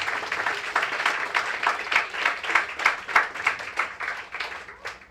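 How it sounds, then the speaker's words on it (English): A breakfast crowd at a youth leadership program claps together in a sustained round of applause, the individual hand claps pulsing rhythmically and fairly near, with no voices on top. "Let's give another round of applause"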